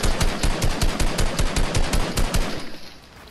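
Rapid automatic gunfire in the Fortnite video game, a loud, evenly spaced burst of about a dozen sharp shots that stops abruptly and gives way to quieter game ambience.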